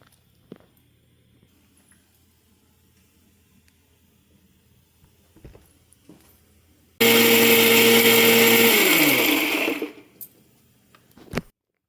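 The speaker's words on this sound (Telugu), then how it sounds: "ఇవన్నీ కలిసి మెత్తగా మిక్సీ చేసుకోవాలండి" A kitchen mixer grinder whirs through cumin, dried coconut and ginger for a bottle gourd buttermilk curry, one loud burst of about three seconds that starts abruptly and winds down, alone after a quiet room.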